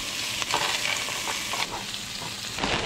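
Frozen onions, peppers and celery fry in sesame oil in a pan, giving a steady close hiss and crackle with a few brief stirring scrapes, no voices.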